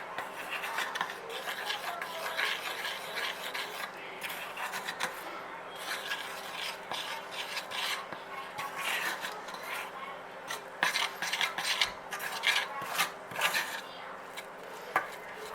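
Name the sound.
mixing icing sugar into caramel icing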